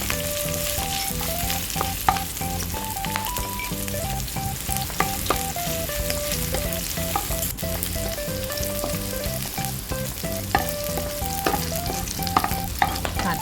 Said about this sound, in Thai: เห็ดหอมค่ะที่เราหั่นไว้ค่ะ ใส่ลงไปค่ะ